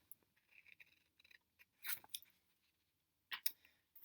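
A few quiet, scattered snips of scissors cutting through paper, with brief silences between the cuts.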